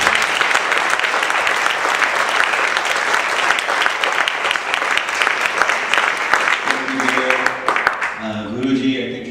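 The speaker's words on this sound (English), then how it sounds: "One more big round of applause for Sheila" Audience applause for Sheila at a live Empty Hands Tour performance at Bharatiya Vidya Bhavan, a loud sustained roomful of clapping that thins near the end as a voice begins speaking.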